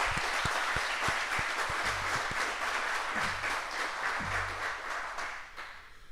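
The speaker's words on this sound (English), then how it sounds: "So they deserve a huge round of applause." Audience at a hacker camp applauding the power team, dense steady clapping from a crowd that fills the whole stretch and tapers slightly at the end, with a few low thumps underneath.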